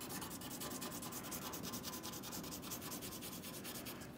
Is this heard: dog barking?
no